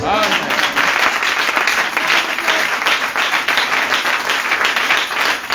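A church congregation applauds and cheers the Lord Jesus in steady, loud, dense clapping mixed with crowd voices, sustained throughout without a break.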